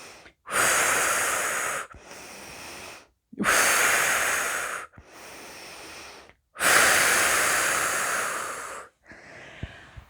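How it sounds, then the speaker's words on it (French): Deep, invigorating breaths during a sophrology relaxation session: three long, forceful inhales and exhales in a slow regular rhythm, close and loud, ending with a softer breath. "Nous prenons quelques inspirations un peu plus toniques."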